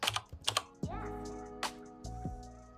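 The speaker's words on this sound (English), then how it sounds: "let me just type it again so that you see what I'm talking about" Keys on a computer keyboard are tapped in quick, light clicks near the start, followed by a few scattered keystrokes over a steady electronic tone, close and fairly quiet.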